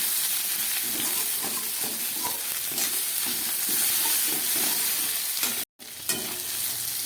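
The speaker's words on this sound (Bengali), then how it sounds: "এবার সব মশলাকে একসঙ্গে করে আমি খুব ভালো করে আবার কষিয়ে নেব।" Ground spices, including coriander and dried chilli powder, stir-fried in a pan, producing a loud, dense sizzle with rhythmic scraping of a spatula, close up, cut by a brief silent gap near the end, no voices.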